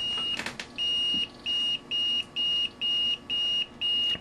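A multimeter's continuity beeper pulses on and off at a 50% duty cycle, giving a row of evenly spaced, shrill electronic beeps close up, after a short burst of handling noise at the start.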